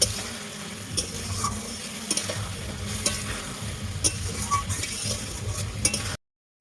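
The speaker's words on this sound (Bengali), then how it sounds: "আমার সেই বেগুন ভাজা আর আলু ভাজা রেখেছিলাম সেইগুলো দিয়ে এইভাবে হালকা একটু লাগতে হবে" Eggplant and potato pieces being fried and stirred into spice paste in a pan for a rohu fish curry, a steady close sizzle with scraping and occasional utensil clinks, ending in a brief silence.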